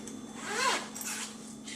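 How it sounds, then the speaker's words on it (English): A zipper on a gray Steve Madden suitcase drawn open in one quick close pull, soft and brief against a quiet room. "there's a zipper here, a kind of mesh design zipper"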